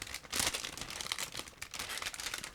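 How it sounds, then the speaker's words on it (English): A plastic bag from a Zvezda 1/48 Mi-35M model kit is crinkled and torn open close up, a continuous busy rustle with sharper crackling bursts throughout. "So now I'm opening another plastic bag."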